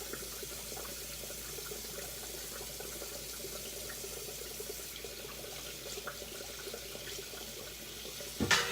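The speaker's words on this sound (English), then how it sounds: "And yes, I do wash off my meat." Tap water runs steadily into a kitchen sink as meat is rinsed for soul food cooking, a continuous moderate wash of water with small splashes, ending in a brief louder knock near the end.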